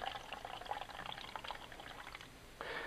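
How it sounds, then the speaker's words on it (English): Water pours into a small cup, a continuous trickling, splashing flow up close that swells briefly louder near the end. "the first thing I want to do is fill up this jar, this little cup, with our water"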